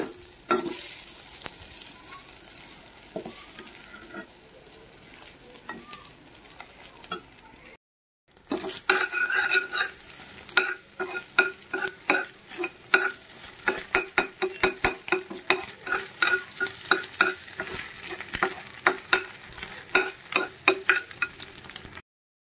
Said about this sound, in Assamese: এতিয়া কণীখিনি দিম মেগীৰ লগত আৰু এয়া কণীখিনিও দি দিলোঁ।